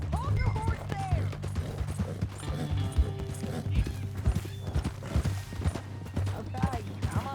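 Horse hooves clip-clop in a steady rhythm over a low droning background in Red Dead Redemption 2, with occasional clatter and brief voices mixed in.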